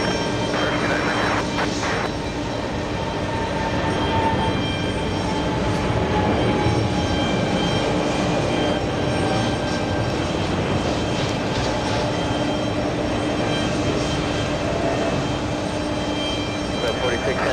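A heavy airliner taking off at JFK airport gives a loud, sustained engine roar that holds steady throughout, with radio-style talk mixed over it.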